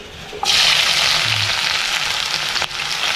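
Sliced onion and green chilies hitting hot oil, a sudden loud sizzle bursting in and holding steady, with a brief clatter near the end, close up with no talk.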